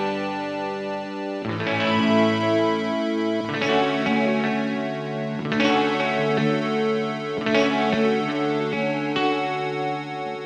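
An electric guitar played through an Enzo synth pedal gives swelling, sustained synth-like chords with a shimmering, effected tone, changing chord every couple of seconds, loud and unaccompanied.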